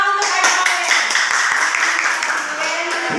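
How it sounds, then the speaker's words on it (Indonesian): A small group of students in a classroom claps for a classmate, with distinct individual hand claps over a voice talking along with it, steady for a few seconds. "ya tepuk tangan untuk Adik Owen"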